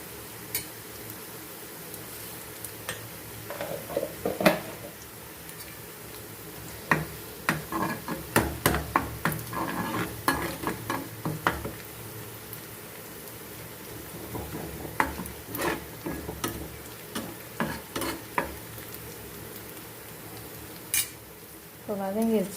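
Onions and finely chopped tomatoes sauté in a pan for a sundakkai fry, with a spoon repeatedly scraping and clinking against the metal over a low steady sizzle, the strokes coming in bursts near the microphone.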